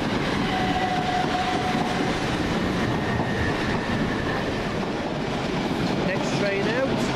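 A Thameslink passenger train, unit 377503, passes through Farringdon station with a continuous rumble, steady rail noise and faint squealing tones, loud and unbroken throughout.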